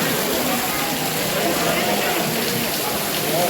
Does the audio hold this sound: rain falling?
yes